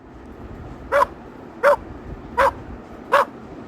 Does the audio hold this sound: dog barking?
yes